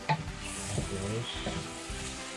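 Chicken tinola seasoned with bagoong and salt sizzles steadily in a cooking pot while a spoon stirs it, with a few soft scrapes over the continuous hiss.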